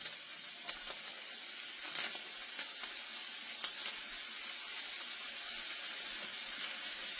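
Seasonings and chopped vegetables sizzle in a hot pan for dirty rice, a steady bright hiss with scattered crackles and pops, fairly quiet and alone with no talking.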